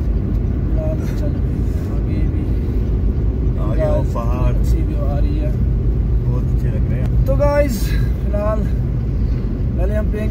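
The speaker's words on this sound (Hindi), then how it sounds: "तो फिलहाल हम थोड़ा गाड़ी को दबाते हैं" Car driving the winding zig-zag road from Khanabal to Pahalgam through Mattan: a steady loud engine and road rumble with wind buffeting the microphone, lasting throughout.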